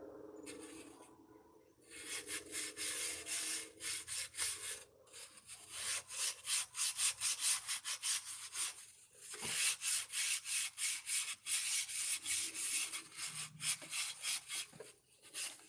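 Hard, steady rubbing in a home hot-rod garage, a rapid rasping scrub like sanding repeated in quick strokes for most of the stretch, close and loud with no talk.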